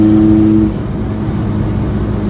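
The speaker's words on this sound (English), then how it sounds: "Straight pipe diesel." A Mk1 Volkswagen Golf's PD130 diesel engine rumbles loudly through a straight-pipe exhaust, a steady rev that drops back to a deep idle after a moment.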